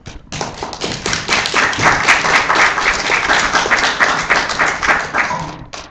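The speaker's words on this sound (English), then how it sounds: "Let's give her another round of applause." An audience applauding at a library storytelling event, a full, steady round of clapping that swells quickly and holds for several seconds with some sharper individual claps on top.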